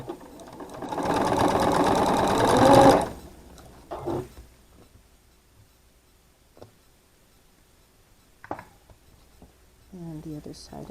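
A sewing machine stitches quilt blocks in one fast, loud run of about two seconds, then stops, followed by quiet handling clicks and a person speaking.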